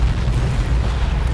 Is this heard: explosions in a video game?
yes